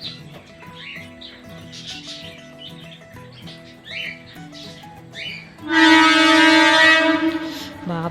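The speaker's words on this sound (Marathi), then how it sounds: "मेल्स जात आहेत आणि ट्रेनचा वगैरे" A train horn blasts loud and close, a sustained multi-tone chord of about two and a half seconds, after a stretch of birdsong and distant rumble around a farm resort.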